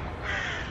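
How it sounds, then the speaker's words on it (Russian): A crow cawing in a city park in the early morning, one harsh, close call. "Птички вас приветствуют."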